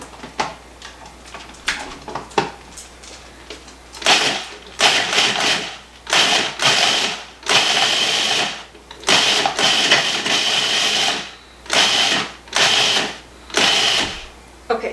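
A food processor pulses strawberry crumb topping ingredients in a run of short, loud, whirring bursts of about a second each, separated by brief pauses and growing more regular toward the end.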